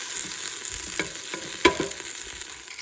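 Flour and chopped vegetables cook in a hot pan with a steady sizzle and frying hiss, broken by a few scraping stirs of a utensil, one louder clack partway through.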